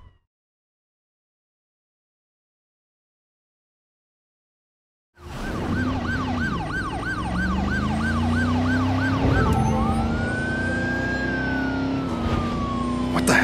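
An ambulance siren from the video game Driver: San Francisco cuts in after about five seconds of silence, then wails loud and steady in rising and falling sweeps over engine noise.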